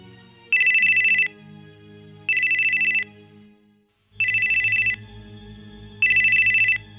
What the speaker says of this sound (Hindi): दुखीराम, देखना जरा किसका फोन है।